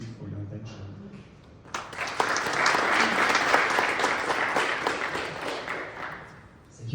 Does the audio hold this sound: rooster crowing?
no